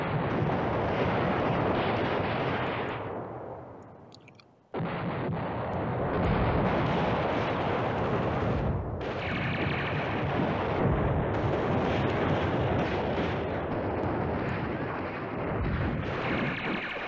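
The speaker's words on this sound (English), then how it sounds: "Now, I'm going to bomb this artillery and bomb that big section over there." Artillery bombardment in the strategy war game Command Ops 2: dense, continuous rumbling barrage of booming blasts, loud and sustained, with a brief drop around the middle before the shelling resumes at full strength.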